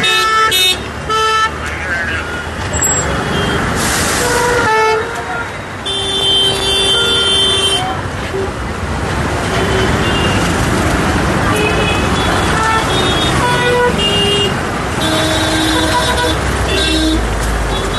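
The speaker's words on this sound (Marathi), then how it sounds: "बघा ना किती ट्रॅफिक होते बघा" Busy weekend road traffic with vehicles honking: repeated car and bus horn toots of varied pitch over a continuous loud roar of engines and tyres, with voices talking through it.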